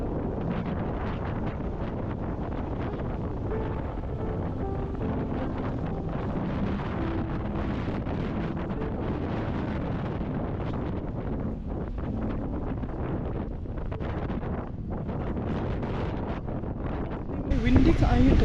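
Wind rushes steadily through a bamboo forest in Bali, a constant broadband roar near the microphone that swells slightly at the very end, with some voices faintly mixed in.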